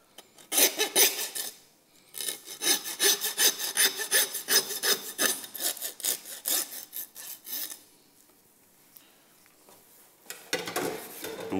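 A hand saw cuts through the bone of a pork loin in rapid rhythmic back-and-forth strokes, loud and close, pausing briefly before a final burst of sawing.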